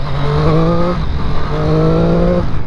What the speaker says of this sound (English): I thought I'd make the most of it and get out on the bike.